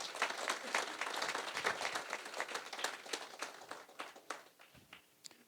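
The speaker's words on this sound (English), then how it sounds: "Give yourselves a round of applause, please." Graduation audience at a community re-entry program ceremony applauding for about five seconds, dense clapping that thins and tapers toward the end, heard alone without talk.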